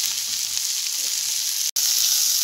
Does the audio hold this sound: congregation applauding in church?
no